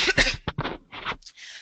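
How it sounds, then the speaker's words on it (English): A webinar presenter in a classroom-education talk coughs several times in a quick, rough burst, close and fairly loud, followed by a brief throat-clearing rasp. "I have to just cough."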